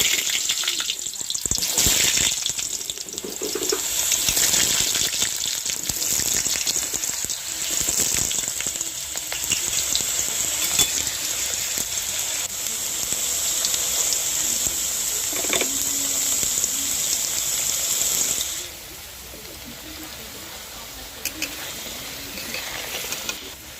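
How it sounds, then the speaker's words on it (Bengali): Potato pieces fry in a wok for a mixed vegetable dish, a steady hiss with scattered crackles that runs loud for most of the stretch and then drops to a quieter sizzle near the end. "এখানে আমি প্রথমে আলুটি ভেজে নেব"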